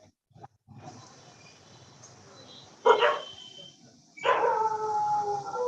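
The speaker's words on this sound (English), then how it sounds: "the dog is barking" A dog barks in two loud bursts a little apart, heard through an online meeting room connection with quiet room noise in between and no talking.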